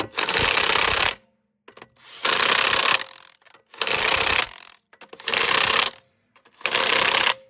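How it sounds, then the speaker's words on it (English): A DeWalt DCF900 impact wrench with a 17 mm socket tightens the wheel lug nuts on a Mercedes-Benz CLA in five loud, hammering bursts of about a second each, separated by short pauses. "this is a DCF 900. It's good enough to torque them up pretty good."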